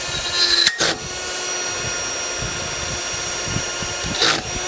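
A Makita 40V cordless die grinder whirs steadily, then bogs down and stalls when the tool is overloaded, a close, continuous hum with a few sharp bursts near the start and end.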